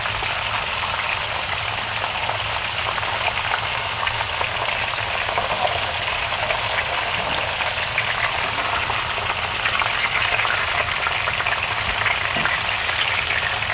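Green beans deep-frying in a wok of hot oil give off a dense, continuous crackling sizzle, loud and close, steady throughout with no pauses or talking.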